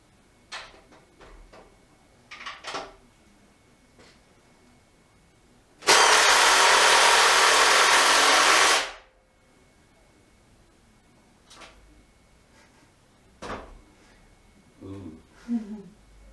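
A Makita DTP141 cordless impact driver runs in one loud, steady burst of about three seconds, with scattered clicks, handling noises and faint voices before and after it.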